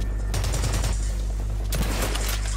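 Gunfire in the video game Blacklight Retribution, two close, loud bursts of rapid automatic fire over a steady low hum.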